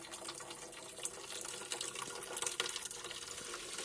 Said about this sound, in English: there it goes, siphons down, and then the water level goes up